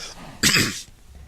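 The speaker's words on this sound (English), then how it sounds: "I have to cough again." A single sharp cough, close and fairly loud, with a short rough burst and a quick fade.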